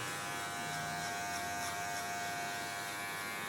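Hair clippers buzz steadily up close while cutting clipper over comb, a constant electric hum with slight shifts as the blades move through hair.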